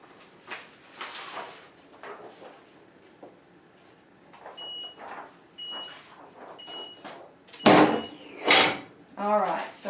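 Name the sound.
heat press timer beeping after pre-press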